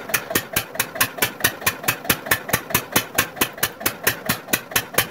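An old Lister Field Marshal 10HP engine runs under load with a loud, steady, close knocking beat of about four firing thumps per second. No voices can be heard over it.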